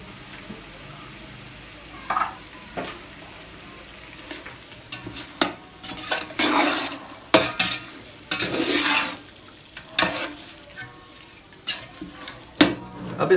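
A kilo of chicken fries in a pot for biryani. A low sizzle runs underneath, broken by loud clanks and scrapes from a ladle stirring it, and a voice talks at times.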